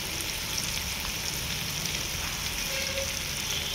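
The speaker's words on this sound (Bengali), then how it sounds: "তেলটা হালকা গরম হতেই এবার মাছের মাখাটা ঢেলে দেওয়া হলো।" Fish paste and chopped onion sizzle in lightly heated oil for a steady, close, even crackle with no talk over it.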